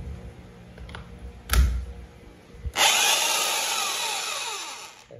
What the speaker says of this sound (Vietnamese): là một con khoan bê tông 3 chức năng nhé, của thương hiệu là FEG. Con này là 800W nhé.